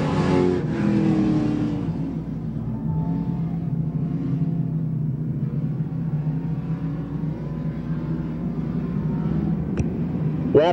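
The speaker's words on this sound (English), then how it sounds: "Cars go around on the front stretch." Dirt-track pro stock race cars roar around a speedway at a King of Dirt Pro Stocks event, a dense, continuous engine drone with rising revs, steady and loud throughout without any talk.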